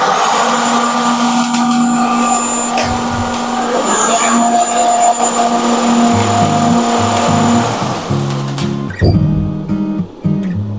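Several stage cold spark machines fire in a remote-controlled sequence, giving a steady, loud mechanical whooshing hiss with a hum beneath it, then a rhythmic stuttering pattern of short bursts as the effects switch on and off near the end.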